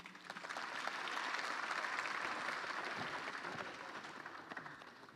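An audience applauds Tracy Wanjiru at a Kenyan political manifesto event, a sustained round of clapping from a crowd that swells and then slowly fades over about five seconds.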